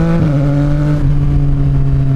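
A CF Moto 675SR-R three-cylinder 675 cc motorcycle engine revs steadily and loud up close, a droning buzz whose pitch dips slightly early on, then holds a constant note with no talk.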